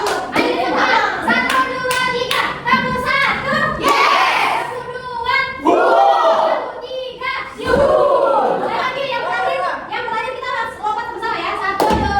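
Schoolchildren in a classroom clap in short rhythmic bursts for a call-and-response clapping game, sharp close claps in groups separated by a teacher's spoken prompts and kids' voices.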